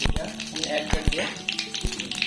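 Cumin seeds crackle and sizzle in smoking-hot oil in a kitchen pan, with sharp pops and taps over a steady frying hiss while a person talks.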